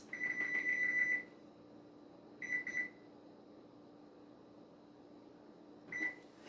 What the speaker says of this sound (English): Set that timer for 30 minutes.